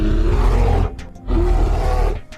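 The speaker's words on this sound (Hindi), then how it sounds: "वो आवाज संभवतः भालू की ही थी" A deep bear roar rumbles loudly across the clip's opening, breaks off briefly, then resumes in a second sustained growling roar, heard alone with no talk, as on a dense forest trail.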